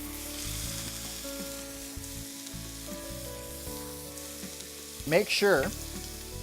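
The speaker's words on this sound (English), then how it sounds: "once those are brown, we're gonna get our bison in the pan." Bison meat going into a pan with caramelized onions, a soft sizzle under background music that briefly flares louder near the end, and a voice speaks briefly.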